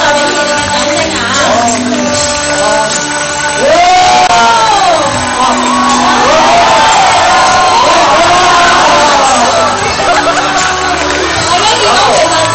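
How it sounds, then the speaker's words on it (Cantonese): A wedding crowd cheers and shouts loudly and without a break, with whoops and voices overlapping in a lively, dense roar, and a host's amplified voice mixed in. "大家再俾熱烈嘅掌聲啊！"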